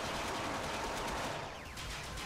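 Continuous, loud gunfire in the video game Mindjack, a steady dense barrage of rapid shots filling the whole moment with no pause.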